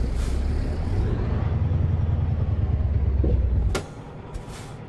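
A Mack Superliner truck in American Truck Simulator rumbles at idle, then its air brakes let out a sharp, brief burst as the engine noise drops away, followed by another short hiss.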